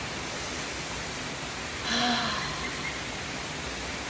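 Flowing water in a nature setting, a steady soft wash of rushing noise like a stream or waterfall, continuous and fairly quiet throughout.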